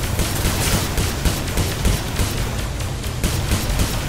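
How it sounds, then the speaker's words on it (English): Rapid spaceship gunfire from several ships at once in the space combat game Star Conflict, a dense continuous fusillade of blasts with booming low end, loud and steady throughout. "There's several of us shooting at him."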